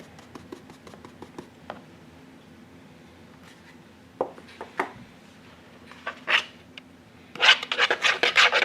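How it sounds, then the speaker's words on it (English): A spoon stirs CC Moore carp pop-up mix, giving scattered gritty scrapes at first, then a run of loud, rapid, close rasping strokes at the end. "start to mix it with your spoon"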